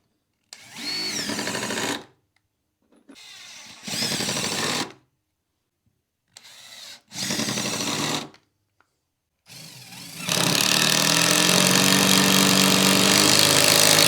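Several cordless impact drivers, including a Ryobi Quiet Strike and Skil, Hercules and Hyper Tough models, fastening in short loud whirring bursts separated by silences, followed by one longer, harsher and louder continuous run at the end.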